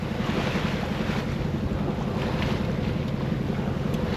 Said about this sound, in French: on avance toujours gentiment, 5 nœuds avec l'aide du moteur et les voiles